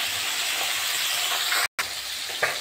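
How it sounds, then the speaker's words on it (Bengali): Fish sizzles loudly in its own released fat in a wok, a continuous hissing fry with only a split-second break partway through. "মাছটা এদিকে ভাজা হতে থাকে"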